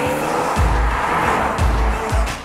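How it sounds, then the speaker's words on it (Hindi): A 2021 BMW 6-Series GT with 254 bhp accelerating hard in sport mode, its engine a loud, steady roar with gear shifts or pulses roughly every second, heard close up and continuous. "हम इसको ड्राइव मोड में डालेंगे, स्पोर्ट प्रेस करेंगे and then we will accelerate it"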